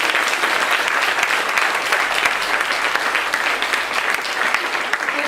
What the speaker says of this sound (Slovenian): Aplavz, prosim.